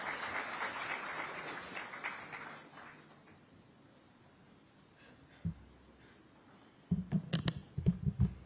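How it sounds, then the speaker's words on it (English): An audience at a metals summit applauds the SEBI chairman, a dense burst of clapping that fades to quiet, followed later by a few isolated thumps and taps. "Let's give him an applause once again"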